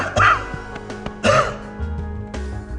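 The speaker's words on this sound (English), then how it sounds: "they didn't cough into their hands this time" A participant in a pandemic flu hygiene demonstration coughs twice out loud, two sharp close coughs about a second apart, with a faint low hum behind them and no talking.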